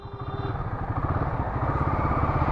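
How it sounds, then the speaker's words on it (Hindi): A Guerilla motorcycle engine revs up under the throttle, close by, its rough beat climbing steadily and growing louder over a few seconds, with no talking. "देखो अब जैसे यहाँ दे रहा हूँ पिकअप, अब मैं रेस दे रहा हूँ"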